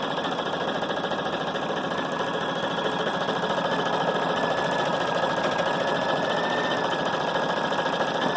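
A Viking Designer Brilliance 80 sewing machine running at high speed, giving a steady, even whir and rapid mechanical chatter close by, unbroken throughout.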